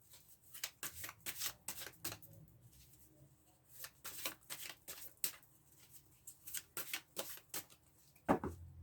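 Tarot cards riffled and handled in repeated quick bursts of papery flicks and slaps, close and fairly quiet, with short pauses between shuffles and a sharper snap near the end.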